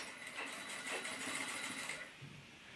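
A sewing machine stitches along the folded edge of fabric for a cloth toothbrush holder, a steady, close whir running for about two seconds before it stops and the room goes quiet.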